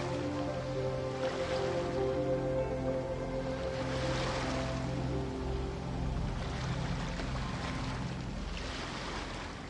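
Ocean waves rolling in the video game Genshin Impact, a steady broad wash of surf with slow swells rising and falling every few seconds, mixed with faint wind under a soft ambient music bed.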